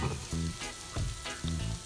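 Cumin and turmeric powder frying in a hot pan for a Sri Lankan cashew and green peas curry, a close, steady sizzle with a few brief louder surges as the spices are stirred.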